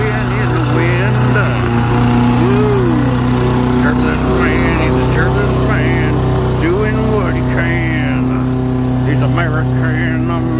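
A lawn mower running steadily close by while a man mows the lawn, a loud continuous engine drone throughout, with singing voices layered on top.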